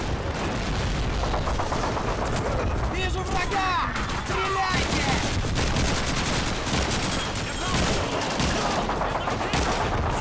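Sustained rifle and machine gun fire from a Call of Duty 2 battle, dense and continuous bursts at close range throughout, with a voice talking over the shooting.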